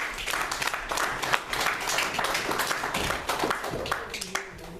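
A church congregation applauds during a worship service, a dense, steady wash of clapping hands lasting several seconds, with a few voices mixed in.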